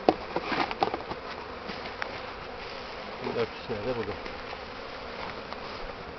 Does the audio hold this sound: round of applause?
no